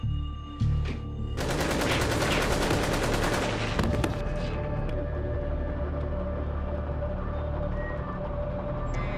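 Gunfire from a TV drama bursts out in a loud, continuous rattle of rapid shots for a few seconds, then gives way to a lingering rumble and hum, with no voices heard.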